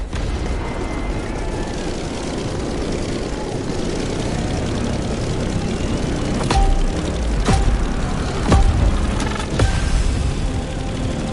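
A propeller aircraft in The Crew Motorfest video game, a steady loud engine drone that swells as it takes off, with several sharp thumps near the end.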